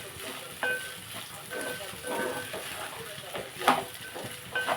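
Okra frying in a pan while being stirred, with a steady sizzle under scattered scrapes and light clinks of a spoon against the pan, close and moderately quiet.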